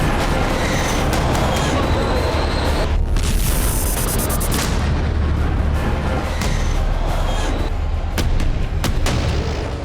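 Heavy booms and blasts rumble one after another amid loud, chaotic noise, with voices faintly mixed in.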